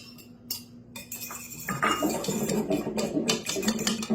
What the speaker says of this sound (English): We're going to stir it up good.